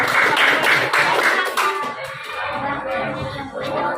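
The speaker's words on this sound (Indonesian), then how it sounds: "Tepuk tangan untuk kelompok" A group of students in a classroom clapping hands for a presenting group, a brief burst of quick rhythmic claps that stops after about a second and a half, followed by a teacher speaking.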